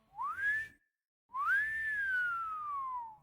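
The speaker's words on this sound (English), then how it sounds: "a long, slow wolf whistle pierced the air." A clear two-part wolf whistle: a short rising note, a pause, then a long tone that rises and slowly falls away.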